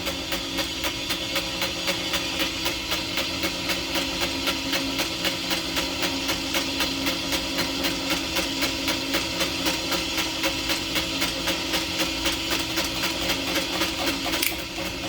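A Van Norman 777S boring bar cuts through a Chevy 350 cylinder bore, a steady close mechanical whir with a fast regular ticking pulse running throughout, ending with a brief sharp click near the end.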